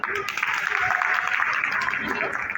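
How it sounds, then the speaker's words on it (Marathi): An audience at a makeup competition claps for a contestant, a sustained ripple of applause mixed with voices and chatter across the whole stretch. "त्या आर्टिस्टसाठी, त्या मॉडेलसाठी आणि त्यांच्या एफर्टसाठी सगळ्यांनी जोराने टाळ्या वाजवा"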